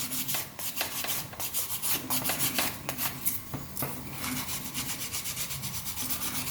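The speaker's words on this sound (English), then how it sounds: "Rub it all the way around, tidy it all up." Hand sanding of a Dalek part, rubbing it all the way around to tidy the edges, with a steady close-up rasp of repeated back-and-forth strokes and no voices.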